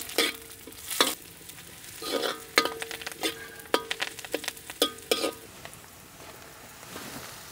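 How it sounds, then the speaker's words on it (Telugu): Raw banana pieces dropped into hot oil with crushed garlic in a pan, stirred with a spoon that clinks and scrapes against the metal over a steady soft sizzle, the tapping strokes coming in quick irregular bursts. "ఇదంతా ఒక 2 నిమిషాలు కలుపుకొని అరటికాయ ముక్కలు వేసేసుకుందాం"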